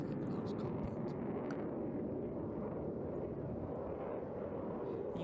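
A Eurofighter Typhoon jet roars at an air festival, a loud, continuous, broadband rumble held steady throughout, with a few faint higher crackles on top and no clear talk.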